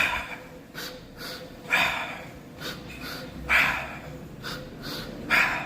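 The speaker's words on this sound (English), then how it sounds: "Double breathing while doing frequent intense training." Double breathing exercise during intense training: close, forceful nasal sniffs and exhales in paired bursts, repeating at roughly one-second intervals with quieter gaps between.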